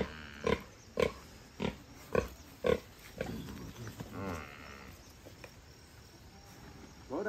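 A pig in a rural village lets out a rhythmic run of five loud, close grunts, then quieter snuffling and rustling with faint insect chirps in the background.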